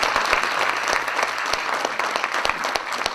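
An audience at a Korean traditional dance symposium applauds, producing brisk, continuous clapping with individual sharp claps standing out, heard alone throughout.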